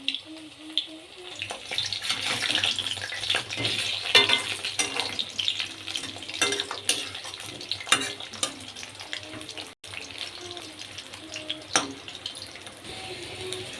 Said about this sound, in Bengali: এখন আমি কম গ্যাসে এটি ভাজা লিম